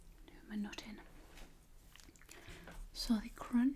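Someone bites into a crunchy biscuit and chews it close to the microphone in soft, brief crunches, set against faint whispering.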